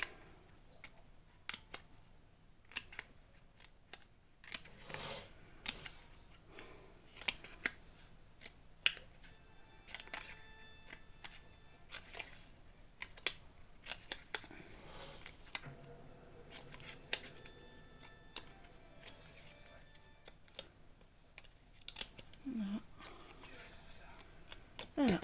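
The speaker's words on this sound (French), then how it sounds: "on va couper genre de petits triangles" Small scissors snipping little triangles out of scrapbooking paper from a Roseland collection, many sharp short cuts and rustles spread across the stretch in an irregular rhythm, close by and fairly quiet.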